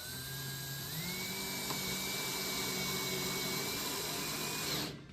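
A standard drill driver on a lowered torque setting drives stainless steel screws into MOSO bamboo siding, whining steadily up close for about five seconds, rising slightly in pitch early on, then stopping abruptly.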